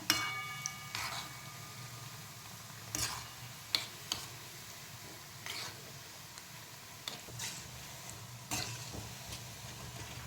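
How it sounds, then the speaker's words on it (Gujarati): Gram flour pakoras sizzle in hot oil with a steady low crackle, and a few sharp clicks and taps mark them being stirred and turned in the pan. No voices. "પછી જો આને ઉલટતા પુલટતા સરસ તળી લેવાના."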